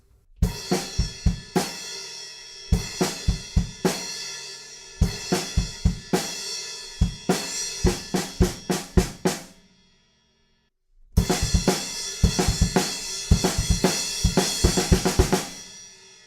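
A drum kit plays a driving rock beat with punchy kick, snare and cymbal hits, stopping briefly for a moment of silence before resuming.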